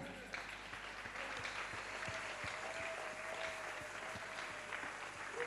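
A church congregation applauding in steady sustained clapping, a dense crowd of hands under a soft background hum, with voices calling out through it.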